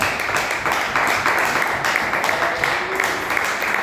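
Church congregation clapping together during a worship service, a steady dense patter of many hands filling the room, fairly loud and continuous throughout.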